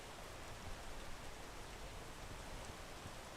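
Steady broadband rain hiss in the video game PEAK, a continuous even downpour with no talk over it.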